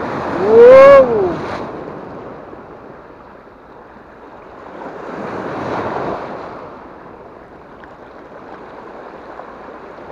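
Waves on a calm sea breaking on the shore, a soft swelling wash that rises and recedes with wind noise across the microphone, after a brief sharp sound at the start.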